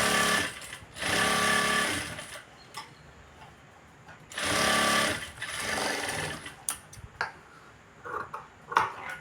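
A sewing machine stitching a blouse, running in two long, steady whirring bursts broken by quiet pauses and a few short clicks and taps near the end.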